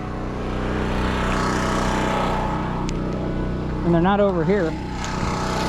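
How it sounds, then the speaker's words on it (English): A portable generator for mobile welding runs steadily as it warms up, a continuous engine drone filling the clip while a voice speaks briefly over it near the end. "so let's let that generator warm up"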